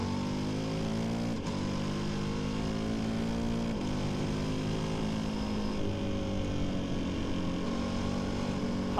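A KTM Super Duke 1390 motorcycle engine pulling hard, a loud steady drone rising in pitch through two quick gearshift dips, wind noise underneath and no talk.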